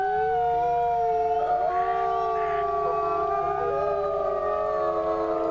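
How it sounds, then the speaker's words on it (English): Several wolves howl together in a rally, overlapping long sustained tones of different pitches, one high and one deeper, steady and loud throughout without pause. "There's too many wolves howling now I don't know who's who."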